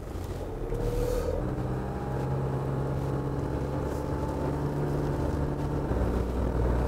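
Iveco Daily 4x4 motorhome crawling uphill in first gear off-road, a steady low diesel drone holding constant pitch throughout, fairly close and continuous with no talk.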